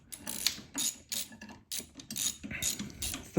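Ratchet tightening bracket bolts on a Triumph Spitfire during a camber compensator install: several quick bursts of sharp clicking pawl strokes, close and clear with brief pauses between, no talk.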